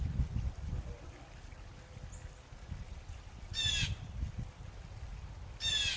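Crows caw outdoors near backyard bird feeders, two bursts of harsh repeated calls, one midway and one at the end, over a steady low background rumble.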